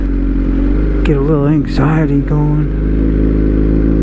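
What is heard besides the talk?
engine idling low and purring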